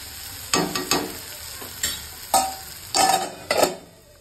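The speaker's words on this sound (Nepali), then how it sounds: "प्याज टमाटर खोर्सानी लगाएर अब यसलाई मजाले टमाटर पाक्नु दिनुपर्छ।" Onion, tomato and green chili frying with chuwa meat in a pan, with a sizzling bed broken by six or seven sharp, rhythmic stirring scrapes and taps close by.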